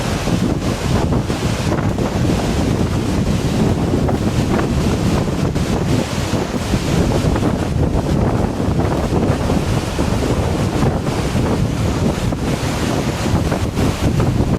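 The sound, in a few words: Hebbe waterfall in full flow after monsoon rain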